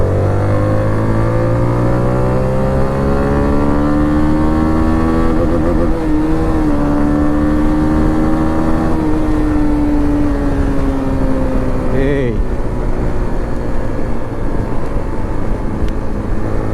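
A Zontes 350 motorcycle engine drones loudly and steadily, its pitch sweeping through several gear changes without pause, then dropping sharply near the end before settling again.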